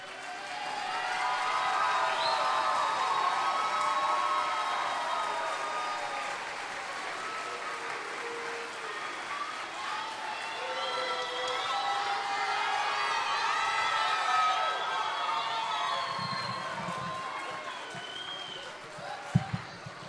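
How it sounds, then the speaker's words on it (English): Audience at an elementary school concert and science fair applauding, a sustained, moderately loud round of clapping that swells and eases, with some crowd murmur and a few sharp knocks near the end. "Let's give them another round of applause."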